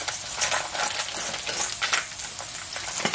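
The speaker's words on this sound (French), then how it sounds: "Donc, on va mettre 200 g de lardons." Bacon lardons added to a pan for a mushroom quiche, crackling sizzle with stirring scrapes and light clinks, steady and close.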